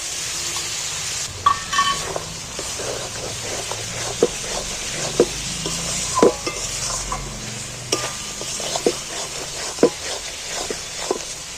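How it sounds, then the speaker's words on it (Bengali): Chicken masala frying in oil with ginger paste water, a steady sizzle running under repeated scrapes and clinks of a spoon stirring the pan, close and fairly loud with no talk. "আবার আমি তেলের মধ্যে ফের একটু নাড়াচাড়া করে ভেজে নেব"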